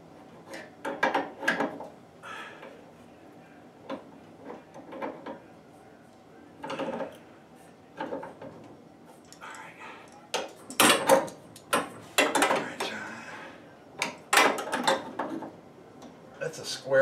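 A wrench tightens a copper pipe fitting onto a Titan SCR2 tankless electric water heater during a bathroom remodel, giving close, intermittent metallic clicks and scraping in uneven bursts, with some talk in between.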